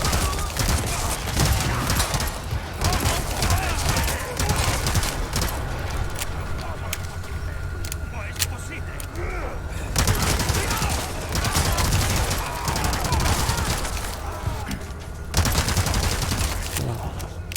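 LE5 light machine gun in Resident Evil 4 Remake, loud sustained automatic bursts with rapid shots and brief pauses between strings of fire, a voice talking over parts of it.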